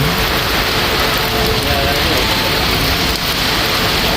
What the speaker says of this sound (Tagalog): Lakas ng hangin tsaka ng ulan.